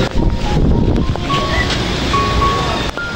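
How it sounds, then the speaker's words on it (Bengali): Strong storm wind blowing hard and steadily, a loud continuous roar that buffets the microphone throughout, with faint tonal hums beneath. "প্রচন্ড বাতাস হইতেছে"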